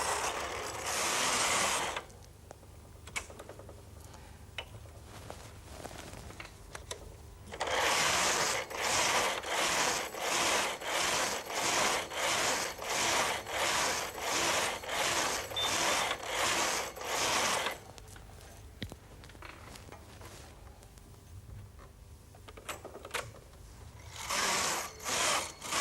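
A Brother Electronoknit 950i knitting machine's carriage is pushed back and forth knitting a pattern, giving a fast rhythmic ratcheting clatter in long passes with quieter pauses between rows.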